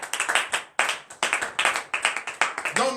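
A church congregation at a Beninese morning prayer claps together in acclamation, producing rhythmic bursts of loud, close hand claps in quick groups, with a voice coming in at the end.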